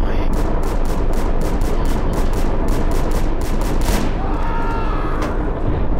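Rapid bursts of gunfire crackle in quick succession over a dense, noisy background, with a few sharper shots standing out near the end.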